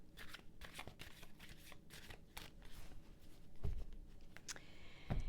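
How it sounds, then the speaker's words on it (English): Tarot cards are shuffled by hand close up, giving soft repeated riffling and flicking bursts with small taps in between. "One more shuffle, okay."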